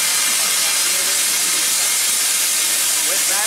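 Steam locomotive being fired up at a Disney park, a loud, continuous broad hiss of escaping steam close by, steady for the whole few seconds with faint faraway chatter underneath.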